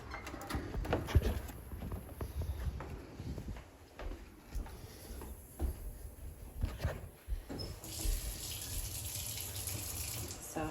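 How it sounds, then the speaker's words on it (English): Cold tap water runs steadily into a sink as felted wool is rinsed under it, a continuous splashing stream with uneven sloshes from handling, close and moderately loud, with faint birdsong in the background. "So I'm just rinsing to get out the soap."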